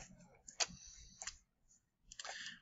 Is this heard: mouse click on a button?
yes